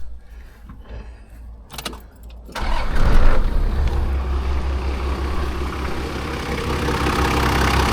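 A Toyota engine running after a clutch start, first some faint clattering and a brief rev, then a loud, steady engine roar that swells and holds close up for the remainder.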